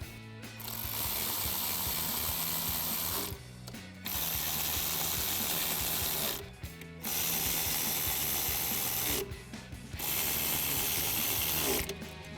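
A 7mm ratchet runs down the coil pack screws on a 1999-2004 Mustang 2-valve engine, four long stretches of rapid clicking separated by brief pauses, close and steady with no talk.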